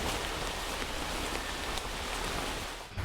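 Steady rain falls in a Ugandan forest, a dense, even hiss of drops on leaves that stays constant and fairly loud throughout, with no voices.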